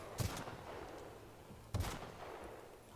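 Enemy gunfire in the video game The Outer Worlds: two distinct, punchy shots about a second and a half apart, fairly faint overall, each with a low thump and short tail.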